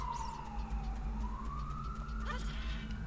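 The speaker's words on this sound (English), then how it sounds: "Ambulance just drove by." An ambulance siren sweeps past outside, its wailing tone rising and falling over steady low hum, moderately loud and fading with a brief Doppler shift near the end.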